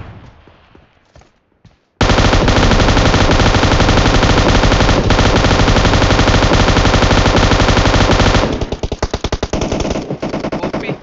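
An M249 machine gun with a 6x scope fires in PUBG on the Miramar map, a loud unbroken burst of rapid automatic fire lasting several seconds, then breaking into short separate shots, after a few quieter sounds at the start.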